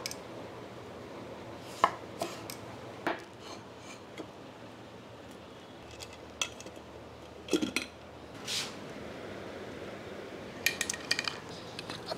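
A knife cuts a medium-sized tomato into large pieces on a board, giving a dozen or so sharp, irregular chops with quiet pauses between them and no talking.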